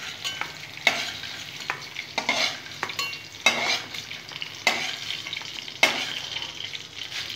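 Okra pieces stirred and lightly fried in a pan for a vegetarian bhindi dish, with a steady sizzle and repeated scraping stirs at close range, no talk.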